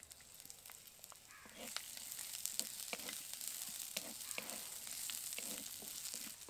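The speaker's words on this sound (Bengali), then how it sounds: "পেঁয়াজ, আদা, রসুন সবগুলোকে কিছুক্ষণ ভালো করে নাড়াচাড়া করে ভেজে নেব" Onion, ginger and garlic frying in hot oil for an egg curry, a soft steady sizzle that grows louder partway through, with scattered clicks of stirring and no talk.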